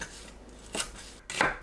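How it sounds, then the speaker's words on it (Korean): Water dropwort (minari) being cut with a knife on a board: two brief, crisp chops about half a second apart, close up, in a quiet kitchen with no voices. "미나리를 3cm에서 4cm 길이로 썰어줍니다."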